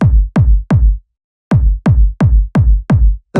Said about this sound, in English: it's just this really strong, fat kick.